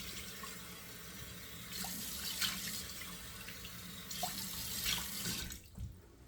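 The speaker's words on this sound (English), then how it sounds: "turning on the cold water tap, because I want to do 2 splashes of cold water" Cold water runs steadily from a bathroom tap into a sink, a continuous close splashing rush that swells twice in intensity before cutting off near the end.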